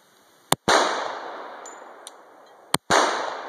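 Two sharp, loud Glock 41 Gen4 pistol shots ring out about two seconds apart at an outdoor range, each crack followed by a long decaying echo, with a faint clink between them.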